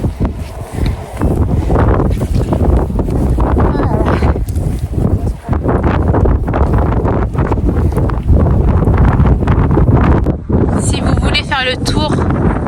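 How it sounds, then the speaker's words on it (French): Strong wind gusts buffet the microphone on high ground in Iceland, a loud, rough roar that surges and dips unevenly, with a voice heard briefly near the end. "il y a des rafales de vent"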